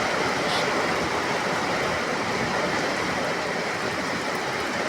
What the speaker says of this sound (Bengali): দুপুরে 1টার থেকে এই বৃষ্টি হইতে আছে, এখনো চলতে আছে।